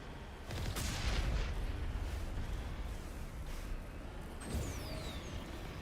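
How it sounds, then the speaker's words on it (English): Gunfire in the Mass Effect video game, shots striking a building on Feros: a continuous loud roar of booming fire and impacts with a sharp burst near the start and another swell toward the end, no talk over it. "They're just shooting at the building."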